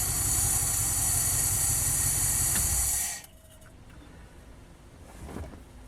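A Mopar 318 two-barrel V8 runs with a loud, steady broadband roar and hiss for about three seconds, then cuts off abruptly, leaving faint low rumble and quiet background.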